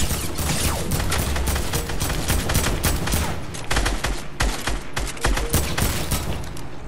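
Gunfire in Fortnite: rapid bursts of shots crackle nearly continuously at close range, dense and loud, with brief gaps between volleys toward the end.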